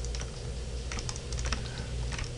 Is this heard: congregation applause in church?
no